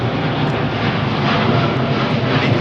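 A jet airliner departs from runway 09R at London Heathrow Airport, a loud, steady, broadband engine roar that stays close and constant throughout, with no voices.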